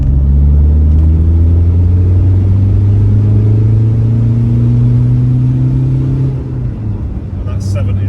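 A Honda Accord Aerodeck VTi-S engine hums and pulls steadily as the car accelerates from 30, its low drone rising gradually in pitch, loud and close throughout.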